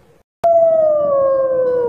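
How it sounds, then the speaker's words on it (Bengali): A single long, loud jackal howl, starting abruptly and sliding slowly downward in pitch, clear and close with nothing else around it. "খ খয় খেক শিয়াল।"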